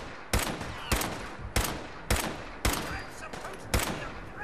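Gunfire in Fallout 4, a series of sharp, loud single shots spaced at a steady rhythm of about one every half second, close and punchy, with brief echoing tails between them.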